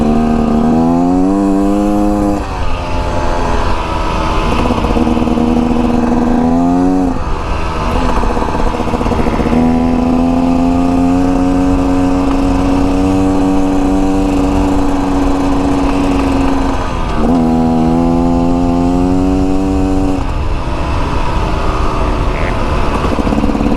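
A 2024 Beta Xtrainer dirt bike runs nonstop through a first break-in ride, its engine note climbing and dropping with throttle changes. It sounds loud and close, with no voices.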